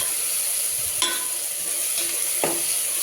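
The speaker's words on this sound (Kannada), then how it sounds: "ಮತ್ತು ಎಣ್ಣೆಲಿ ಸುಡ್ತಾ ಇದೆ." Tomato masala fries in hot oil and is stirred, with a steady high sizzle and a couple of sharp scraping clicks from the spoon against the pan.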